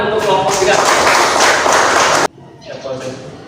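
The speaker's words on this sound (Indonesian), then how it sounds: "tepuk tangan untuk kelompok 3" Students in a classroom applaud a presenting group with a dense, loud burst of clapping that stops abruptly after about two seconds, leaving quieter room voices.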